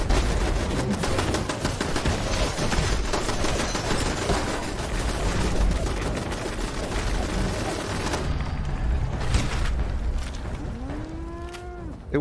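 Turrets firing in Fallout 76, a long, continuous barrage of rapid shots that thins out toward the end, where a few low, moo-like tonal calls rise above it.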